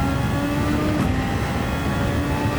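In Gran Turismo 7, a race car's engine drones loud and close as it accelerates down the main straight at speed, a steady high-pitched whine that holds throughout.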